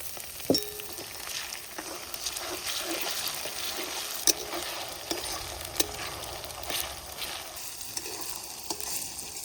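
Onion, garlic and ginger paste with bay leaf frying in a hot pan for spicy dhaba-style palak paneer, a steady close sizzle with occasional stirring clicks and clatter, no voices.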